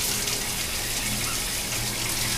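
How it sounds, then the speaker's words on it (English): Shower water runs at full pressure in a bathroom, a steady loud hiss and splash that stays constant throughout with no voices. "Shower. I gotta check the pressure."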